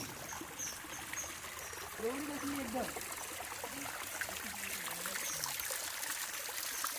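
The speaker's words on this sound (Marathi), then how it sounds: "इकडे पाणी पडतो आपल्या वॉटरफॉलचा पाहू शकता" Steady rushing roar of water pouring down a monsoon-fed waterfall in the Konkan rains, a dense continuous wash with a few faint voice-like tones drifting over it.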